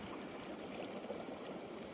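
A small waterfall in the Sierra Nevada mountains gives a steady, soft rushing of water, continuous and fairly faint without any pauses.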